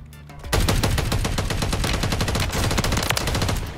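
A Striker 9 submachine gun in Call of Duty opens up after a brief pause, then fires a loud, continuous rapid-fire stream of evenly spaced shots close up for several seconds.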